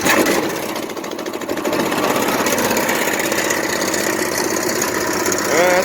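A small DC generator engine, set up as a battery bank charger, is pull-started and settles into a loud, close, steady rattling idle with heavy vibration.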